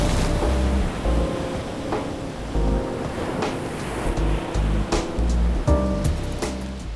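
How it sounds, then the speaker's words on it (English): King tide waves crash along the Oregon coast in heavy, rumbling surges, breaking repeatedly with loud whooshing spray and a roar of wind noise on the microphone. "Every year, people flock to the Oregon coast to witness the spectacular of king tides."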